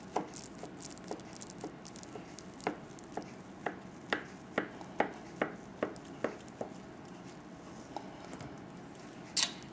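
A hot-water-warmed knife slices repeatedly through a New York style cheesecake, making a series of quiet, evenly spaced cutting taps with faint squishy scraping between them.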